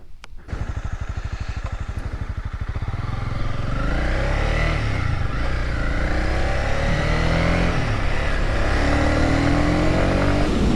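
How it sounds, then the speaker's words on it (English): A Honda CB300 motorcycle engine close by on a quiet rural road, opening with a throbbing idle and then rising into a loud, sustained roar as it revs. "I hear somebody. Sounds like a motorcycle."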